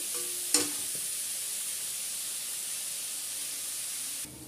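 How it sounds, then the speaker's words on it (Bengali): Pumpkin pieces fry in hot oil for a bitter gourd and pumpkin curry, a soft even sizzle heard alone, with a sharp clatter near the start, before it cuts off abruptly at the end. "ভেজে নেব আমি কুমড়োটা ভেজে তুলে"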